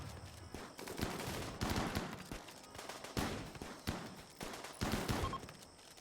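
Bursts of rapid gunfire crackle repeatedly with short gaps, fairly faint and distant, like automatic weapons in a battle in the game RimWorld.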